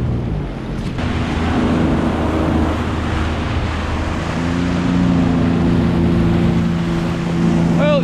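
A boat motor drones steadily and loudly close by as the boat pulls into a marina near Port Dover, with wind and water noise mixed in.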